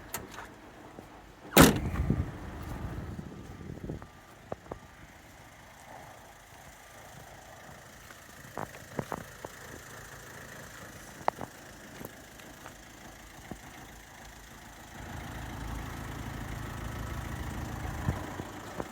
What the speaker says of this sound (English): Engine's running, nice and quiet.